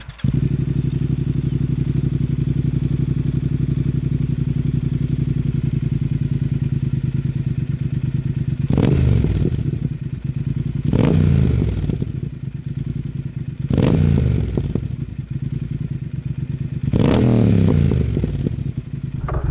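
A Triumph Speed Twin with its Vance and Hines baffles removed idles with a loud, steady, close-up engine rumble, then revs sharply four times, each throttle blip rising and falling back to idle.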